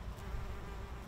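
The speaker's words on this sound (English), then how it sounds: "observes how many flowers the bees visit per minute" Wild bees buzz steadily as they fly among flowers in a plot of mixed plant species, a continuous close insect drone with no talk over it.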